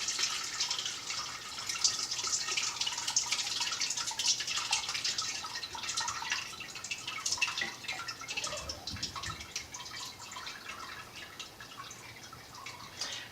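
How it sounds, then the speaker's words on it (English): Ricotta curds and whey drain through a strainer, giving a faint, continuous trickle with soft irregular drips throughout, quiet and close by. "let it sit and drain and just drip"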